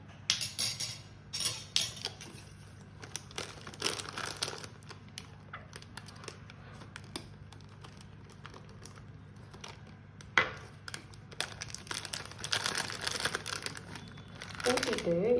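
A snack chip packet crinkles and rustles in bursts while beaten egg mixture with tomato is poured into it, the crackling close and irregular, with quiet gaps and a sharper burst near the end.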